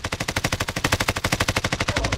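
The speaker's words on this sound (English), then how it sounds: "Taking direct fire." Rapid automatic gunfire in the video game Warzone, a loud, continuous burst of evenly spaced shots lasting about two seconds, with no talk over it.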